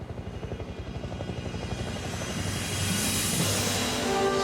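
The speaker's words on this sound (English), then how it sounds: "It's a helicopter, I know it is." A helicopter approaches through a blizzard, its rotor thumping in a rapid rhythmic chop that grows steadily louder and fuller as it draws nearer, with no voices over it.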